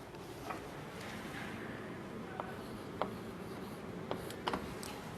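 Chalk or marker writing on a board during a physics lecture on current electricity, a faint scratchy rub with a few soft taps spread over the clip under steady room hiss.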